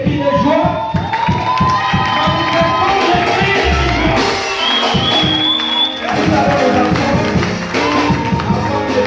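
Young people at a church youth seminar in Bunia shout and cheer joyfully as a crowd, loud and continuous, with clapping and scattered voices throughout.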